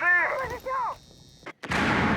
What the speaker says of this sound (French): Je charge la grenade à impact.